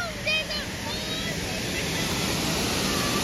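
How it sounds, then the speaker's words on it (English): Water from the Falls of Falloch in the Scottish Highlands rushes through rocks, a steady, loud broadband roar with no pauses, close by and continuous throughout. "this is very strong, and like spring water coming through the rocks"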